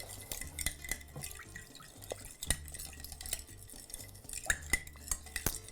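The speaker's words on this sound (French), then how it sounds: "Donc, je vais mélanger." A spoon stirs an orange-sweetened chicken marinade in a bowl, giving steady wet scraping and clinking strokes with small splashy ticks, close and moderately loud, with no talking.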